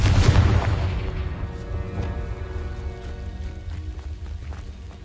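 A Confringo blast spell in the Hogwarts Legacy video game lands with a single deep boom at the start, then a rumbling decay fades under faint background game sound.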